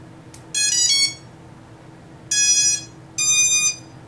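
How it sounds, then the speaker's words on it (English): An HGLRC Veyron cinewhoop drone's ESCs give three separate bursts of high electronic boot-up beeping, each under a second, close and clear, with the motors starting out of sync. "that's an interesting boot up sound. The ESCs didn't all initiate at the same time."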